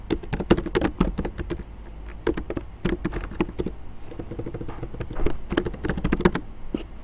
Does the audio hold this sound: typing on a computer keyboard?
yes